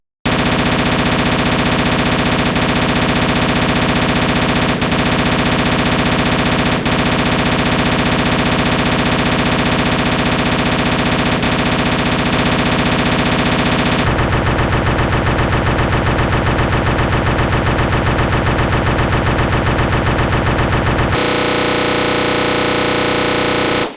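Sustained rapid automatic fire from Chris's PC-exclusive ultimate weapon in Resident Evil 1, a dense, loud, unbroken machine-gun roar that runs the whole stretch, changing character partway through with no talk.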